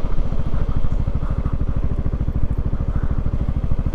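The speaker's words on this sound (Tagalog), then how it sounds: "Uy, may mga motor dito." Several motorcycles idle at a roadside stop, a close, loud, rapid engine putter chugging evenly throughout with no talk.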